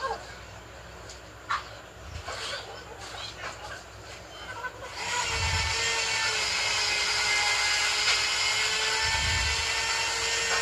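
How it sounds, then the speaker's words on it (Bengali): A woodworking machine runs at a neighbouring house, starting midway as a loud, steady, high-pitched whine that drowns the room, preceded by quieter clicks and knocks and a few low thuds. "আমার পাশের বাড়িতেও একটা কাঠের কাজ চলছিল, ওর মেশিন চলছিল, তাই এই আওয়াজগুলো আসছে।"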